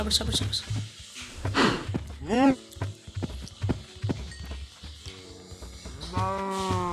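Cows and calves on a farm moo a few times close by, one long low moo at the end, among footstep-like clatter and people talking throughout.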